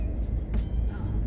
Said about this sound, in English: Now I'm driving to my friend Amanda's house.